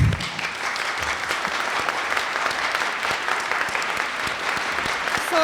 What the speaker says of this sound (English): So a round of applause for all our wonderful panelists.